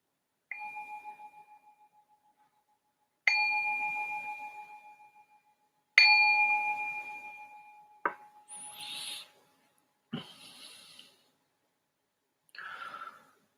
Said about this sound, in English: I just ring this bell to signal the start of our second session.